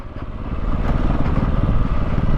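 A 2022 Beta 430 RR-S dirt bike engine on single track at Chappie Shasta OHV, a loud, close, rumbling single-cylinder drone that rises slightly and holds steady, ridden slowly over technical terrain.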